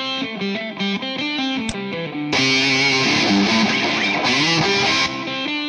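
Electric guitar playing through the Audified ampLion Free amp simulator, a clean vintage tone shifting midway into a louder, heavily distorted sound, played alone.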